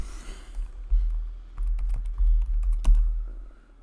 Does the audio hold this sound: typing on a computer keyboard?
yes